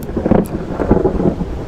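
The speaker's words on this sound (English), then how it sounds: "the thunder's picking up" Thunder rumbles and cracks in a thunderstorm with rain falling, loud and close in two swelling bursts, heard at a lakeside fishing spot without any talk.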